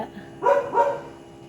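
A dog gives two quick, fairly close barks in succession, then quiet background hum.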